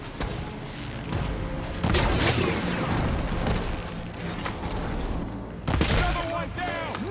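Weapons firing in the video game Horizon Forbidden West, with loud booming bursts and crackling volleys over a dense battle din, two heavy blasts standing out near the start and end, while voices shout over the fighting.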